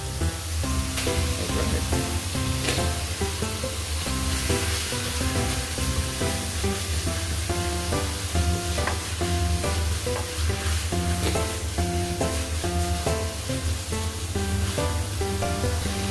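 Ground meat and tomatoes sizzle steadily in a frying pan, a continuous loud crackle with stirring running throughout, and no voices.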